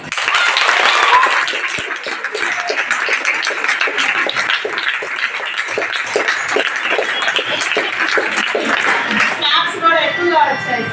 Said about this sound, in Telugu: క్లాప్స్ కూడా ఎక్కువగా వచ్చాయి సోని.